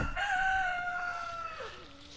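A pasture-raised rooster crows once, close and clear, with a long rising-then-falling call beside a chicken coop and run, no other voices.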